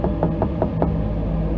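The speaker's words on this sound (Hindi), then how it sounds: "कभी लगता कोई दरवाजा पीट रहा है," A door is struck by a fist in a spooky night setting, giving five dull, evenly spaced thuds in a quick steady rhythm over a low rumbling drone, with no voices.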